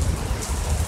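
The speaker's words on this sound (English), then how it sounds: "it's like raining pretty hard, man" Heavy rain falling steadily outdoors, a dense continuous hiss of drops over a low rumble with no break in the brief moment.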